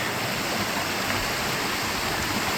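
A canyon waterfall in Alberta roars as a steady, dense broadband rush of falling water, loud and unbroken throughout with no voices.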